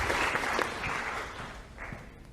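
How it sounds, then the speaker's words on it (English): A short burst of applause from a group, steady clapping that fades toward the end. "A round of applause for our two feistier players."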